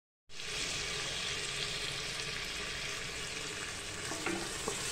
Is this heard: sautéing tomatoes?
yes